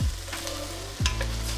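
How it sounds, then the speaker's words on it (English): Zucchini and navy beans are stirred in a pot with a spoon, giving two low scraping sweeps about a second apart over a continuous soft simmering sizzle, close and fairly loud. "we will give these a nice stir"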